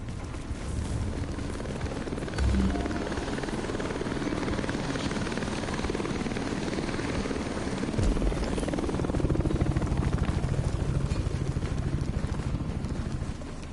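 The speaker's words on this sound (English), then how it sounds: "Evacuation helicopter here. approaching." Evacuation helicopter in the video game The Division, its rotor thudding steadily and growing slightly louder as it approaches, a continuous low chopping drone over ambient game noise.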